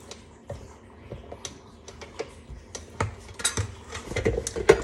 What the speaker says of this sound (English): I'm going to scrape it with my rubber spatula.